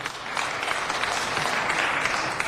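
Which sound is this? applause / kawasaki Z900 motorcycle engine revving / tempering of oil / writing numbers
applause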